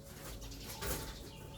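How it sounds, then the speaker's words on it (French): Birds call softly in the background, a low cooing like a pigeon or dove rising briefly amid steady outdoor ambience, with no voices. "Des oiseaux."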